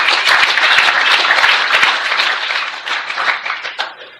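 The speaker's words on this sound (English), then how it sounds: "I certainly hope that you're applauding for Alcoholics Anonymous" Applause from the audience at an Alcoholics Anonymous speaker meeting, a dense, steady wash of many hands clapping for about four seconds before it thins and fades toward the end.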